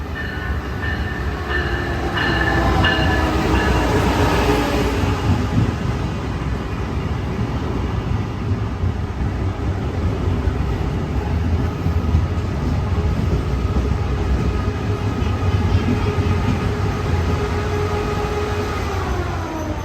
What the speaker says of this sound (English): we catch the southbound train to Miami arriving